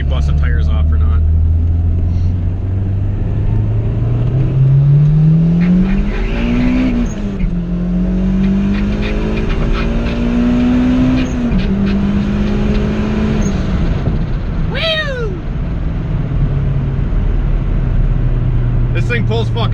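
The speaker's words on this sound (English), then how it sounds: "I'll do a little second gear pull, see if she busts the tires off or not" A turbocharged B18C1 Honda Civic EG hatchback on 7 pounds of boost pulls hard in second gear, the engine note climbing steadily up through the revs, then a sharp shift and a burst of turbo flutter.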